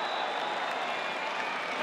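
Packed stadium crowd at a Lingerie Football League game in Victoria, Australia, a steady broad roar of cheering and applause with no clear breaks, loud and continuous throughout.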